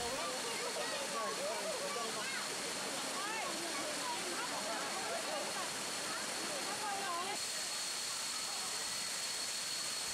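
Kuang Si waterfall near Luang Prabang, Laos, pours in a steady, dense rush of falling water heard up close, with a faint murmur of voices in the background.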